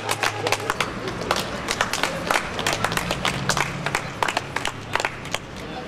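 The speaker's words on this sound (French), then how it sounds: "Merci d'applaudir à l'avance." A crowd applauds at an outdoor performance on Place Fréhel, with dense, fairly close clapping running steadily throughout over a low background hum.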